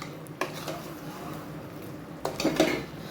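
Potato, brinjal and bottle gourd being stirred in a cooking pot for dhalcha kuzhambu, a few soft metallic scrapes and clinks of a spoon against the pot, close and fairly quiet, with a faint murmur in the background.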